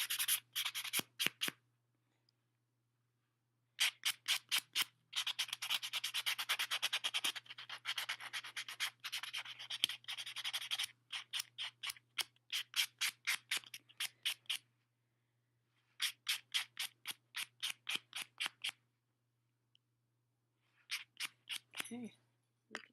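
A file shapes and buffs fingernails during a manicure, with quiet rhythmic scratchy strokes in short bursts separated by silent pauses, close up and soft.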